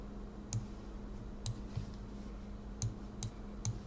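A handful of sharp, isolated computer mouse clicks on a Mac while VLC is being installed, spaced irregularly over a quiet low hum, close and fairly faint.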